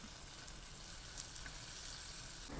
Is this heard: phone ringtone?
no